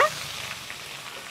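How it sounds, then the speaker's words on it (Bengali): Onion paste, cumin paste and ginger-garlic paste hitting hot oil left from frying poultry chicken, giving a steady, close sizzle with no voices. "তো এখন আমি মাংস ভাজা তেলের মধ্যেই মশলাও দিয়ে দিব।"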